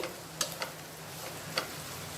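Chicken stirred in a frying pan, a low steady sizzle broken by a few sharp scraping clicks of the spoon against the pan, close and fairly quiet with no talking.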